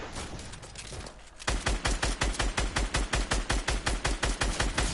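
Rapid gunfire in the video game Fortnite bursts in after a brief quieter stretch, then continues as a steady, evenly spaced string of loud shots with no talking.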